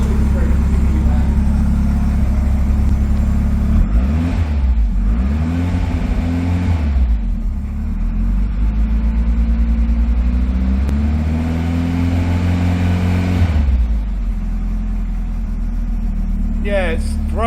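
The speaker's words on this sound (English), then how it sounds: "Even if I rev it a little bit, I think it's very particularly loud." Ford Escort Mk1 restomod with a swapped-in Cosworth turbo engine, revved lightly to about 2,500 RPM: a throaty, deep engine note swelling and falling in a few short blips over a steady idle, with people talking throughout.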